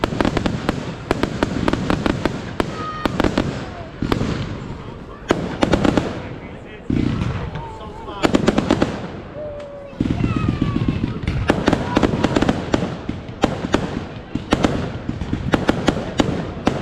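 Bonfire night fireworks crackle and bang in rapid, dense bursts during a ride through Liverpool, loud and close, with whistles rising between the pops and people talking underneath.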